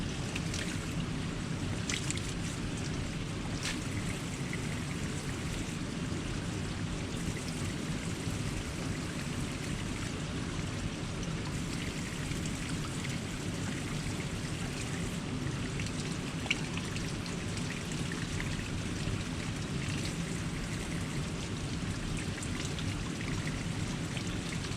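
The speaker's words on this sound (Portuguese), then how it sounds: "mais uma bica, mais uma água sagrada, abençoada, vindo da montanha, gelada, natural" Cold natural spring water pours steadily from a mountain spout, a continuous loud splashing rush with no break, close by and with no voices.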